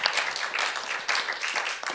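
An audience claps briefly at a round-table discussion on climate and the Earth system, a short burst of scattered, fairly close applause lasting a couple of seconds.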